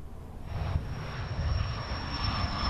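A state-owned airplane's engine drones steadily, a broad roar that swells slightly and holds with a faint high whine on top, heard alone without talk.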